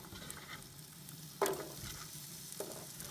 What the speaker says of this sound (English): now we're going to give that a stir